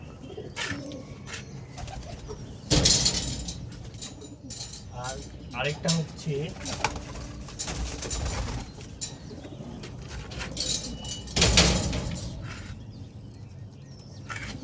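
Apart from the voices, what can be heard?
pigeons cooing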